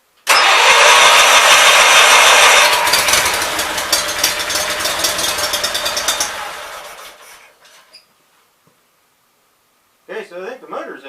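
A Lincoln welder generator's engine cranks and catches, running loud and rough for several seconds before dying away, followed by a short burst of talking.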